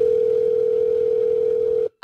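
A telephone dial tone hums as one loud, steady pitch for almost two seconds, then cuts off abruptly into near silence.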